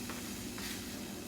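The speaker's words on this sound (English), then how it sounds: "I want them to start boiling in here." Canned 15.5-ounce pinto beans heat in a pot over high heat, giving a steady, close sizzling hiss with faint bubbling as they start toward a boil, with no voices.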